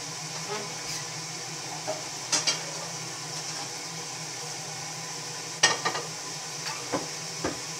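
Eggs fry in oil in a pan with a soft, continuous sizzle, broken by occasional sharp clicks and scrapes of a utensil against the pan.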